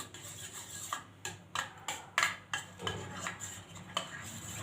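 A spoon mixes egg masala in a pan for dosa, making close, rhythmic metallic clinks and scrapes against the pan with no talking.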